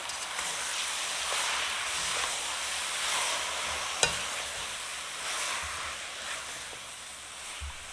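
Stewed chicken sizzles in a pot while it is stirred, a constant hissing fry broken by soft spoon scrapes and one sharp knock, close and with no speech.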